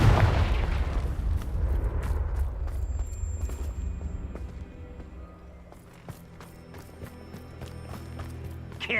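A Confringo fire spell explodes in Hogwarts Legacy near a Thestral nest, opening with a loud booming blast. Rumbling and scattered thuds and crackles follow, fading into quieter game ambience.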